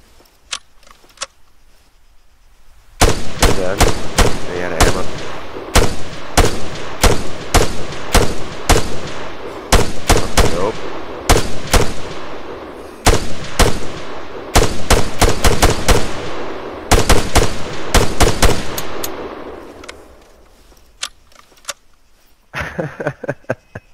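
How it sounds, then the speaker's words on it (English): Rapid bursts of rifle fire in an Arma 3 battle, loud and close, cracking out in irregular clusters and volleys for about twenty seconds before thinning out, with faint scattered shots at the start and end. "Man, I hear a battle over there."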